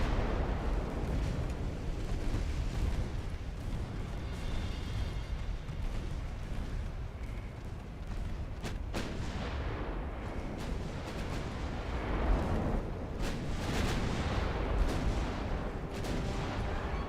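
Naval guns in Ultimate Admiral Dreadnoughts fire high explosive shells, a dense rumbling barrage of distant booms and thuds rolling continuously over the sea with occasional sharper cracks.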